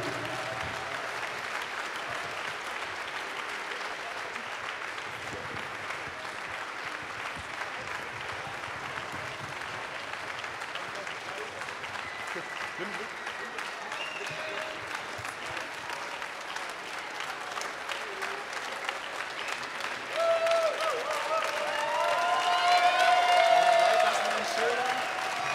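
Audience at a prizegiving event applauding organizers called up on stage, sustained clapping from a large crowd that swells louder toward the end.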